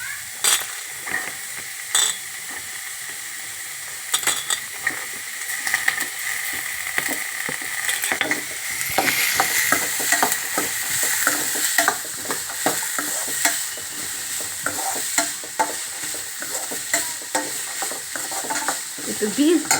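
Beans and carrots stir-fried in a pan for vegetable soup, with steady sizzling frying beneath repeated scraping stirs of a spatula, close and fairly loud, with no talking.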